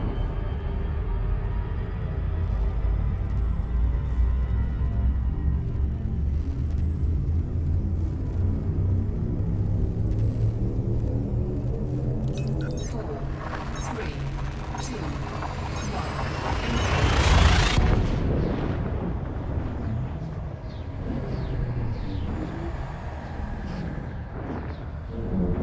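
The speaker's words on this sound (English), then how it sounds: "Frameshift drive charging." Frame shift drive in the space game Elite Dangerous spooling up, a deep rumbling drone with rising harmonic tones that build to a loud whooshing jump surge, then settle into a steady low hum.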